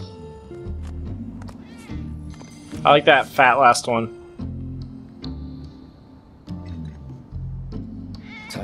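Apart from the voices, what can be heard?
cats meowing in video game Final Fantasy 7 Remake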